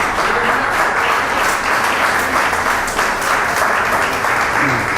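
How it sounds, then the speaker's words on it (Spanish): A congregation at a church convention in Medellín, Colombia bursts into loud, sustained applause, a dense wash of many hands clapping steadily and evenly for the full stretch, with some voices mixed in. "Den un fuerte aplauso al Espíritu Santo por eso"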